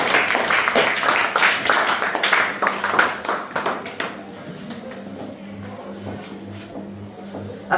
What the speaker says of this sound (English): Clap for him, Lord.